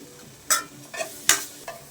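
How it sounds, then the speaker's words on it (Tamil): Mint leaves being sautéed with tomato in a pan, heard as a few sharp stirring scrapes and brief sizzling bursts at an irregular rhythm over a faint background, with no talk. "இப்போ புதினா தழை போடுறாங்க தக்காளி வணங்கின பின்னாடி."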